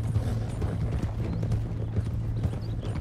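Rhythmic horse hooves clopping at a steady walking pace over a low ambient hum in the video game Red Dead Redemption 2, with no voices.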